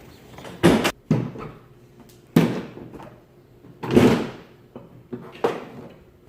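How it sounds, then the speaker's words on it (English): Hood of a Nissan 370Z being popped open, a series of separate thunks and latch clunks, close by with short pauses between them. "So I'm going to pop the hood open."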